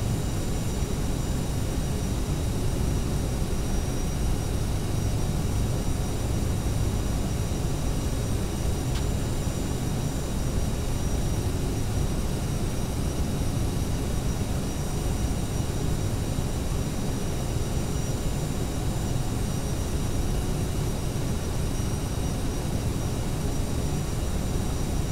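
An Aerosoft CRJ-700 airliner in flight in the Prepar3D v4 simulator gives a constant, even broadband roar of engine and cabin noise that runs unbroken throughout, with no talking.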